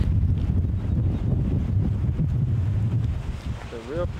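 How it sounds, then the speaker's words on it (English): Strong cold wind buffets the microphone on the Cape Cod coast near the ocean, a loud continuous roar with gusty low rumbling throughout, and a brief voice near the end. "It's very cold, very windy right now."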